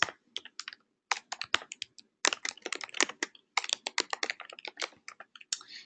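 Email address typed on a computer keyboard for a community workspace website, heard as rapid, uneven bursts of close key clicks with short pauses between runs.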